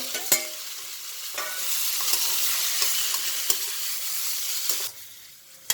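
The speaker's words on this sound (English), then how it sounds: "Once this is done, I put in my mushrooms now." Mushrooms fry in a pan for Indian-style veg hakka noodles, crackling in a steady close sizzle with sharp clicks and scrapes of stirring scattered throughout, and no talking.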